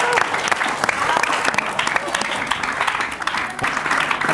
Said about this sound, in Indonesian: tepuk tangan buat Jeremy Teti.